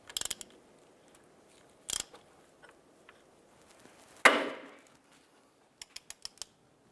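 A ratchet with an 18mm socket turns the crankshaft of a 2011-2019 Ford Fiesta while a belt is fitted, giving sparse metallic clicks, a sharp clunk and a quick run of ratchet clicks near the end.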